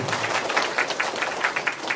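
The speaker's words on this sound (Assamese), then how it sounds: "সকলোৱে হাত চাপৰি বনাইছোঁ" An audience clapping hands at a gathering, a dense, moderately loud patter of many claps with a few sharper accents, steady for the whole moment.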